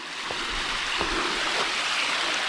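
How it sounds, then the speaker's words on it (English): Rushing water of a small forest waterfall splashes steadily and close by, a constant bright wash of falling water with no voices. "Here's a waterfall,"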